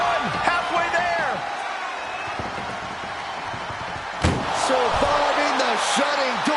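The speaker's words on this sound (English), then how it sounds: "Surviving the shutting door and escaping the ambulance." A heavy slam as ambulance doors are forced shut during a wrestling match in WWE 2K25, one sharp impact mid-clip over a continuous crowd roar and commentary-like voices.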